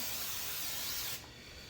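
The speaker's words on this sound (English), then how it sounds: "make sure you spray down your pan" Cooking spray hisses steadily onto a baking pan being greased for brownies, a close, continuous spray that stops sharply after about a second, leaving quiet room tone.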